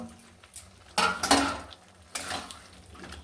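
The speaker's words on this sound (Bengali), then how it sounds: "ভেজে রাখা আলু পটল দিয়ে দিচ্ছি" Fried potato and pointed gourd tipped into a pan of spiced liquid, with clattering utensil scrapes and two bursts of stirring and sizzling against the pan.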